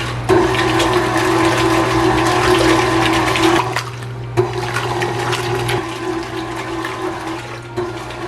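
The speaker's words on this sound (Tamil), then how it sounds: "ஸோ கொஞ்சம் நேரம் இதை வந்து பிளெண்ட் பண்ணி எடுக்கணும்." An electric blender churns cream into butter, with buttermilk splashing inside the jar. A loud, steady motor whir runs with a wet sloshing texture and briefly dips partway through.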